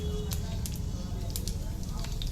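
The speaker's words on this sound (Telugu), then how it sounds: "ఒక్క ఎండుమిరపకాయ వేయాలబ్బా తాలింపులో" A dried red chilli crackles in hot tempering oil, a dense, even sizzle broken by sharp little pops close by.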